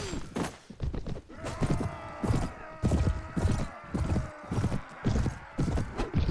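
Hooves clip-clop at a steady gallop-like rhythm in the Mount & Blade Warband Viking Conquest video game, with evenly spaced thuds over a sustained tonal background bed, close and fairly loud.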